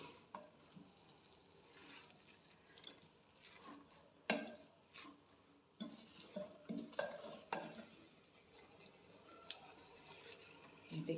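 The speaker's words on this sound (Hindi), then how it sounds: "अच्छे से इसको ऊपर नीचे करके मैं मसाले में इसको मिक्स कर दूंगी।" Potatoes and spinach being stirred into masala in a pan: faint, intermittent scrapes and soft wet clatters of a spoon, with a light sizzle underneath.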